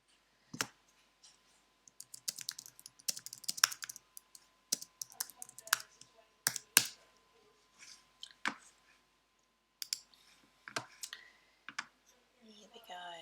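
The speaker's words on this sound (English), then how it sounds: "I'm just typing a little bit in between" Typing on a computer keyboard in quiet, close clicky bursts broken by short pauses, a single soft thump up front.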